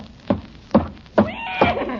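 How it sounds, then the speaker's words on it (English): A horse neighing sound effect from a 1946 radio comedy show: a series of four sharp, close bursts ending in a longer whinny, with no one speaking. "Good heavens, there is a horse in the kitchen."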